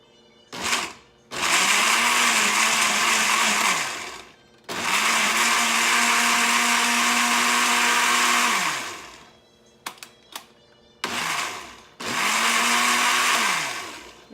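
A kitchen blender purees a garlic and cilantro mixture in three loud, steady whirring bursts, each several seconds long, separated by brief pauses and a few short pulses.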